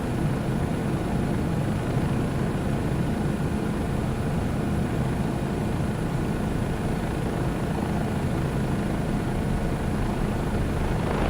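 Bell JetRanger helicopter in the FS2024 flight simulator passing over a stadium, a loud continuous rotor and turbine drone that holds steady throughout.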